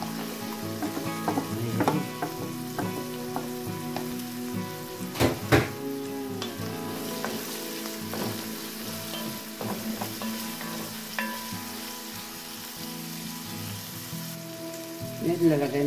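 Garlic sizzles steadily in a hot pan for Greek-style cuttlefish with rice, with soft stirring scrapes and occasional utensil clinks over the constant frying crackle.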